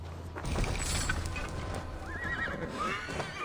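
In the Assassin's Creed Valhalla video game, a summoned horse gives a loud whinny and its hooves clip-clop nearby over a continuous game ambience.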